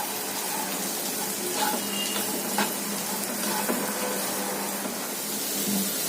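Val bean pods sauté in a hot pan with a dense, continuous sizzle and a few faint scrapes of stirring, close by and steady, with no voices.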